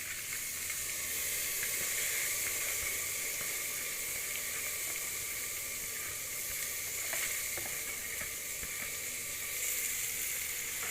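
Dal mash lentils hit hot spices in a pan and sizzle loudly and steadily, a close, constant frying hiss with faint scrapes of stirring and no voices.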